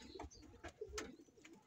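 A banded racing pigeon, seven years old, gives soft, low cooing notes in a brief, quiet sequence close by, with faint background noise and no talking.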